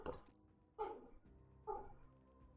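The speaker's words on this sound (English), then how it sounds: "My dog go bork." A dog barks twice at an even spacing, a short sharp bark near the start of each burst, faint and indoors-sounding with low background hum.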